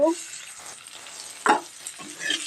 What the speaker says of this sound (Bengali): এর মধ্যে আমি পেঁয়াজের কুচি দিয়ে দেব